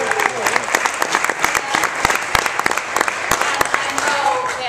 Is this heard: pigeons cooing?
no